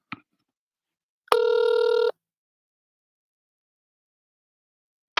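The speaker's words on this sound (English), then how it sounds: "It's ringing." An outgoing telephone call rings once with a steady electronic ring tone lasting under a second, framed by brief clicks and silence, heard alone and clear.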